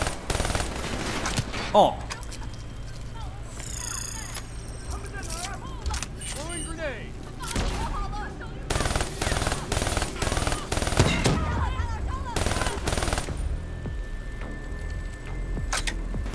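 Gunfire in the video game Call of Duty: Black Ops III, rapid automatic bursts and sharp shots mixed with game effects and music, while voices talk over the action.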